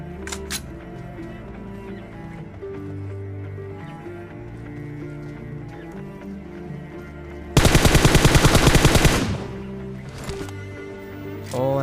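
Burst of M249 machine gun fire in a battle royale video game, a loud rapid stream of shots lasting under two seconds over game music and ambient sound, with a few fainter shots after.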